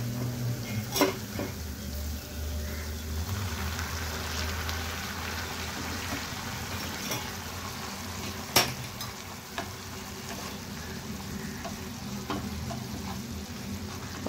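Jaggery syrup bubbles and sizzles in a pan as boiled water is poured in, a steady crackling hiss with occasional sharp clinks of a utensil.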